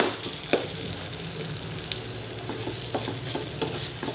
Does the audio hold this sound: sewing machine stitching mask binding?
no